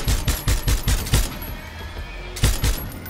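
Machine gun fire in Far Cry 6, a loud close burst of rapid shots in a steady rhythm, a short pause, then another quick burst.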